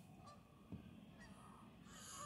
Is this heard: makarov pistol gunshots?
no